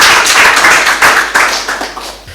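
Audience applause at a personal testimony session of a leadership training event, a dense steady wash of many hands clapping close and loud throughout, swelling and easing slightly with no talk over it.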